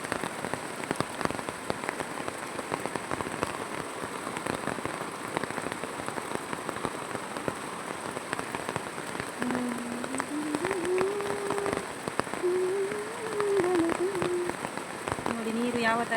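Heavy rain pours steadily in the open, with water drumming on surfaces and a voice talking over the downpour partway through.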